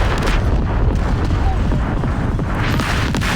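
Anti-aircraft guns on a warship in a naval combat video game fire a dense, continuous barrage of loud, rumbling booms with no letup.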